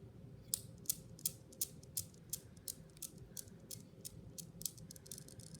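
Steel spheres of a Newton's cradle click against each other in a steady, evenly spaced run of sharp metallic taps, close and fairly crisp, fading slightly over a low background hum.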